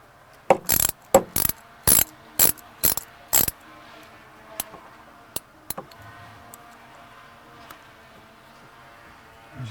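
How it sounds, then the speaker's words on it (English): Ratchet socket wrench with a 7mm socket loosening the clip on an Ooni gas regulator, giving seven quick, sharp ratcheting bursts up close, then a few scattered faint clicks and handling noises against quiet outdoor background. "I've got a socket, and this is a 7mm socket, and I'm just going to loosen off"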